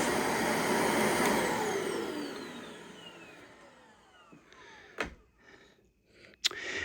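A dual-motor commercial upright vacuum cleaner whines loudly, then is switched off and spins down with a falling pitch over several seconds, followed by a couple of sharp handling clunks nearby.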